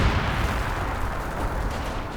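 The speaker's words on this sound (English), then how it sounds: "And some nice artillery to cover the victory point here." Artillery in a World War II strategy video game, a dense run of booming shots and rumbling blasts that overlap continuously at a loud, steady level, with no speech.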